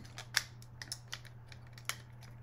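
Plastic clicks of a Transformers Earthrise Sky Lynx toy's legs being folded back: a handful of sharp, close, light snaps spaced irregularly over a steady low background hum.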